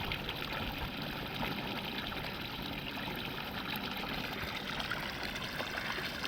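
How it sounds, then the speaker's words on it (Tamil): Steady rushing water pours continuously from a pump set outlet into a rice paddy field, loud and close, with no pauses or voices. "நம்ம பம்ப் செட்லேருந்து தான் தண்ணி பாயுது"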